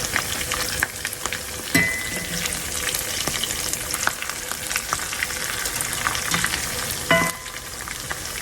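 Black-eyed pea patties crisping as they fry in a pan, giving off a steady close sizzle with occasional louder crackles and brief scraping from turning them.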